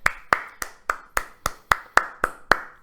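Ten sharp hand claps in a steady rhythm, close and fairly loud, each with a short decay and no voices.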